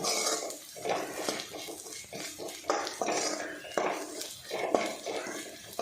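Masala powders sautéed in a pan over a low flame, with a spoon scraping and clinking against the metal in irregular strokes over a soft background sizzle, close and moderately quiet.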